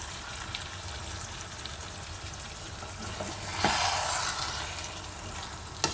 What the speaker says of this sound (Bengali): তারপর ধীরে ধীরে চিকেনের সাথেই টমেটো পেস্টটা মিক্স করে খুব ভালোভাবে কষিয়ে নিতে হবে